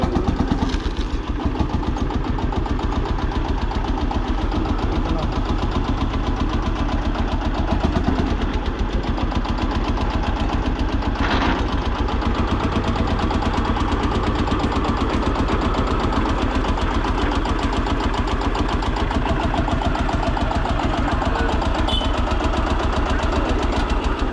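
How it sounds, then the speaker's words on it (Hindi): A restored 1959 Lanz Bulldog D2416 tractor engine idles steadily nearby, a loud low chugging with a regular knocking pulse that never lets up. "इसकी 2 टाइप की आवाज़ है ट्रैक्टर की"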